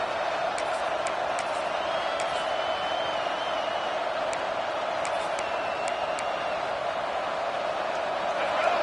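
Stadium crowd at a football game, a steady roar of cheering and voices filling the whole stretch with a few brief whistles, continuous and far-off rather than close.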